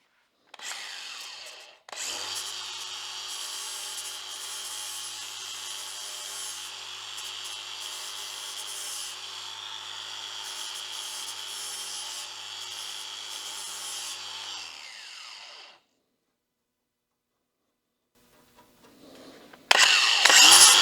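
A power tool cuts through pieces of material in one long, steady, loud run of about thirteen seconds, nearby and alone, stopping abruptly, with a brief burst of handling noise at the end.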